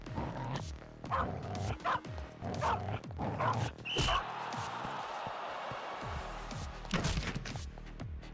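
Dogs in an indie video game bark in a rapid series of sharp, close yaps, followed by a heavy impact and a burst of combat noise, with a few more barks near the end.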